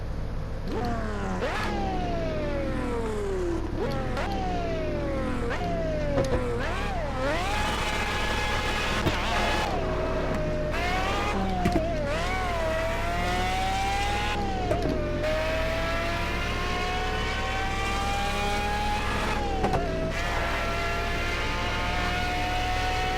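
A high-revving Pagani Zonda R engine in Project CARS repeatedly climbing in pitch and dropping abruptly at each gear shift, with synthetic, game-like tone over a constant low hum.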